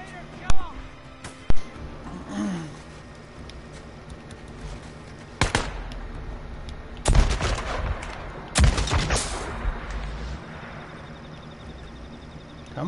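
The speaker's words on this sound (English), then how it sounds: "Oh, what's shooting me?" Gunfire aimed at the player in the Days Gone video game: a few sharp single shots, then a couple of louder heavy bursts later on, with a voice talking at times.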